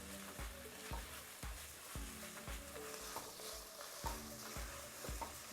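Three garlic cloves sizzle steadily in a pan while being stirred around, with soft regular scraping knocks about every half second over a low, quiet frying hiss.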